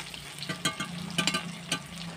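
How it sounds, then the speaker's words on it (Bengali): Pieces of snakehead fish fry in hot oil, giving a soft continuous sizzle broken by a few sharper crackling spits, fairly quiet and close, with no talking. "কথা বলতে বলতে প্রথম ব্যাচের মাছগুলো ভাজা হয়ে গেছে।"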